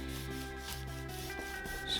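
Cotton ball dipped in beige and Havana dye rubbed over a leather belt, a steady soft swishing rub that continues without pause under a constant low hum, with no speech.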